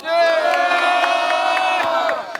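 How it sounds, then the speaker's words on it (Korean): A crowd of residents at an outdoor protest press conference lets out one loud, sustained rallying shout lasting about two seconds, many voices together in a single roaring chorus. "오세훈 규탄 기자회견 여러분들의 힘찬 함성으로 시작하겠습니다"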